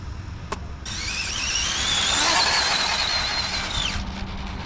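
An Arrma Typhon TLR Limitless 6s RC car on a speed run gives a high-pitched electric motor whine that climbs in pitch for about three seconds, then cuts off abruptly.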